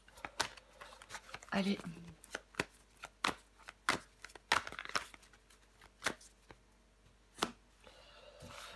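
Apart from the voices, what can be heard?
tarot cards being shuffled and turned over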